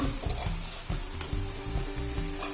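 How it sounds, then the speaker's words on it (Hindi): Onions with ginger garlic paste fry in a pan with a continuous sizzle, broken by regular soft knocks and scrapes from stirring. The sound is close and moderately quiet. "अब ब्राउन करना है हमने, प्याज और लहसुन अदरक को।"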